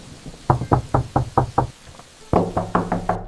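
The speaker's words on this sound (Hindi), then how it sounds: "घर की तरफ जाता है और दरवाजा खटखटाता है।" Two quick bursts of sharp knocks on a wooden door, six raps then five, loud and close with a short pause between, during heavy rain at night.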